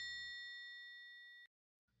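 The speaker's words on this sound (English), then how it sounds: "I'd ring the bell for you." A single bright bell ding rings out as a sound effect, sustaining clearly for about a second and a half before cutting off sharply into silence.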